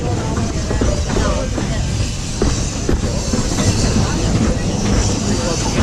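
A Walt Disney World Railroad train rumbles and clatters steadily as it pulls into Fantasyland Station, with wheel and track noise filling the scene and a voice speaking over it.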